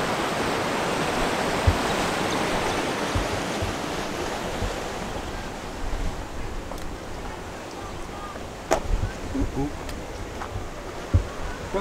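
A waterfall flows in John Forrest National Park, giving a steady, full rush of water that fills the whole clip, with a few soft knocks and faint background sounds over it.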